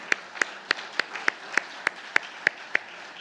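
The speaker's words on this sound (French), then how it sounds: "Marisa, si tu veux bien te lever pour qu'on t'applaudisse tes 3 années de fidèle service" Rhythmic clapping from an audience honouring a departing youth group leader, steady evenly spaced claps about three per second over a soft bed of scattered applause.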